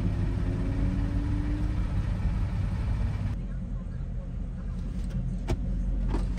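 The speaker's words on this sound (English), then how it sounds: "I love the way this car pops when it, like, when you downshift." Ford Mustang engine rumbling steadily from inside the car, a continuous mid-level drone with a shift in tone partway through, while people talk over it.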